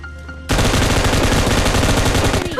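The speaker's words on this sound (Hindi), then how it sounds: "भाई साहब M249 है" Sustained automatic M249 machine gun fire in the video game PUBG Lite, a loud, rapid, unbroken burst that starts abruptly after a brief quiet moment and runs for about two seconds with no talking.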